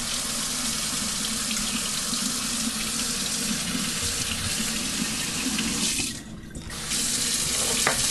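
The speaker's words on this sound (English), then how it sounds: "I can't run warm water through my filter, so I have to put cool water in there." Cool tap water pours steadily into a water filter in a home kitchen, a loud continuous splashing rush with a brief dip in flow near the end.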